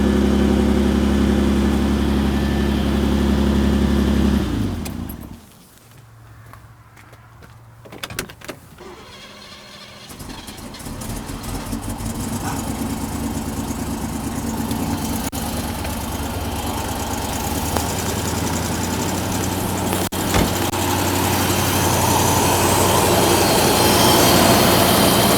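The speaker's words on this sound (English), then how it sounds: "So it's still idling a little fast." An older car's engine idles a little fast, a loud steady hum that cuts out abruptly, then after a quiet pause with faint clicks returns as an even, continuous idle, with no voices.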